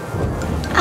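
A thunderstorm rumbles as a low, loud, steady roar with a hint of rain hiss, one brief continuous burst with no voices over it.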